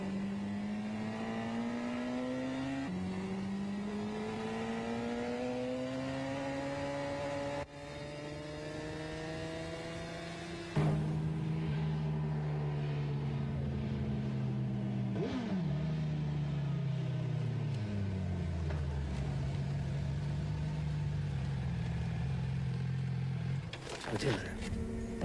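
A motorcycle engine revs and pulls through the gears while riding, rising in pitch, dropping at each shift, then winding down and picking up again, close and continuous, with a voice speaking over parts of it.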